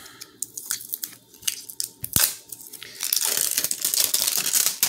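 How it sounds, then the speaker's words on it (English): Off-brand tape peeled and torn from a roll, with crinkling and sharp ripping bursts, one loud tear midway and a long raspy stretch of unrolling at the end, close by with no talk. "So let's go ahead and get this duct tape opened up."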